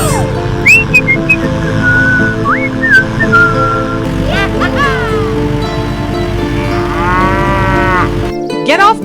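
A cartoon cow on a dairy farm moos loudly and repeatedly in long, drawn-out calls over a steady music bed, with cartoon whistles and sliding sound effects above it.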